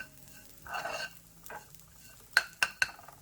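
Breadcrumbs toasting in melted butter in a pan for mac and cheese, faint soft stirring and sizzling followed by three sharp light clinks of a utensil against the pan.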